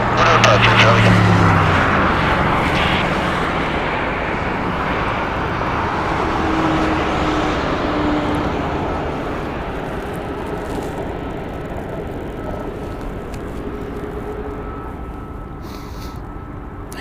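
Aircraft taking off at Las Vegas Harry Reid International Airport, a loud broadband engine roar that holds steady across the whole stretch and fades slightly toward the end, with faint radio chatter underneath.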